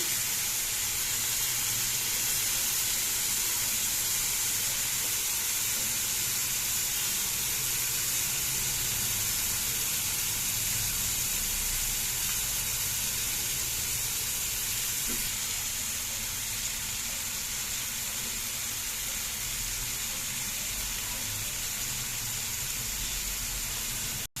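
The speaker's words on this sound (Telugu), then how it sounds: "ఫ్రై అవుతుంది" Chicken tikka pieces fry in butter, giving a steady, loud broadband sizzle and hiss that stays unbroken for the whole stretch, with no voices over it.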